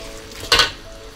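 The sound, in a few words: kuey teow noodles frying in a wok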